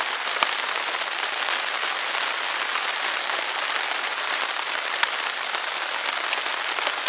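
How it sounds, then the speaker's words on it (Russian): Rain keeps falling at a lakeside camp during a kayak trip in Karelia, a constant close patter and hiss with a few sharper single drops standing out. "А дождик еще не закончился."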